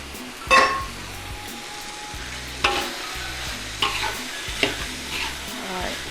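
Boiled mutton frying over high heat for dry chilli mutton, stirred in the pan: a continuous close sizzle broken by a few sharp scrapes and clinks of the spoon, with no talk.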